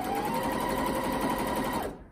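A Janome 1030MX sewing machine stitching fabric, a steady fast whirring hum of the motor and needle running continuously, then stopping abruptly at the end.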